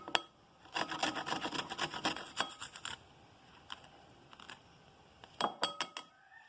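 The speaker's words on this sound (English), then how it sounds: "I'm going to grate some garlic." Garlic rasps across a grater in quick bursts of scraping strokes, close and fairly quiet, with pauses between bursts and a final short flurry near the end.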